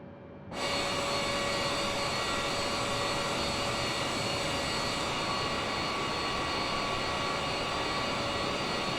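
An aircraft engine in a flight simulator game cuts in abruptly and then drones as a loud, steady whine with a broad rushing roar beneath it, holding constant for the rest of the stretch with no talking.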